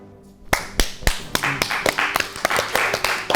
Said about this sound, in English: Oh wait, not supposed to be clapping.